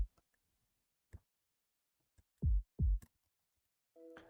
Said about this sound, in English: these heartbeats, which is just a kick and it sounds like this.